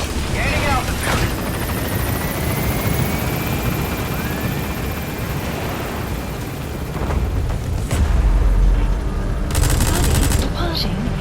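In-game helicopter in Metal Gear Solid V: The Phantom Pain lifting off and climbing, a steady loud rotor and engine roar throughout with a heavier low thump near the end and brief bursts of game noise.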